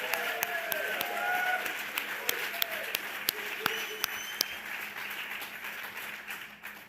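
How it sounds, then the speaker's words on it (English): A room of audience members applauds for event sponsors at a church-hosted talk, sustained clapping from a mid-sized crowd with distinct close, sharp individual claps punctuating the wash. "Let's give them a round of applause"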